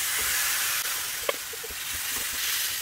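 Chicken shawarma skewers start cooking in a hot pan, giving a steady loud sizzling hiss with a few small pops and crackles.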